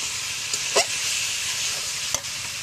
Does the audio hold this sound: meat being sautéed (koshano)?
yes